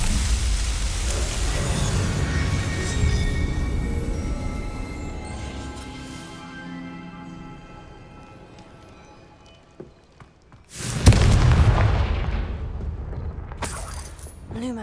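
Confringo blasting spell cast in Hogwarts Legacy, a loud burst of explosive impact near the end after a long rumbling, rustling stretch, with a second sharp blast trailing off at the close.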